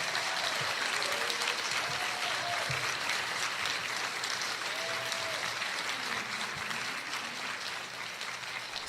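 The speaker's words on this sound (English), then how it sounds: "One more round of applause for the Brady Street Jazz Combo." Steady, dense applause from a large audience after a jazz combo's performance fills the whole stretch, holding strong before easing slightly toward the end.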